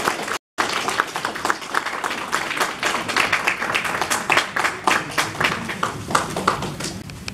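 An audience at a Federal Way Korean association's youth volunteer awards night claps in dense, sustained applause with many overlapping hands, broken by a momentary gap just after the start.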